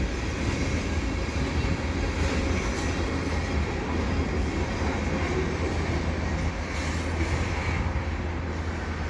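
A CP mixed freight train rumbles steadily past at close range at Dorval, a continuous heavy roar of wheels on rails with faint rhythmic clatter throughout.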